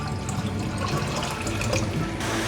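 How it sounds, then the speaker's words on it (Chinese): Plenty of water poured into a cooking pot in a home kitchen, a steady close rushing splash that runs unbroken for about two and a half seconds. "放入多点的水"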